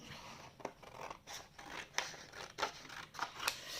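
Scissors snipping through paper die-cuts, with a series of short crisp cuts in an uneven rhythm, close by and fairly quiet, with no talking.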